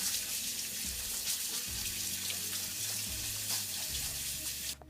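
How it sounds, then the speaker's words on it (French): Tap water running steadily through a small strainer as quinoa is rinsed, a continuous hiss and splash with faint clinks of handling, close, then cutting off abruptly at the end. "on va laver 2 fois le quinoa dans une petite passoire"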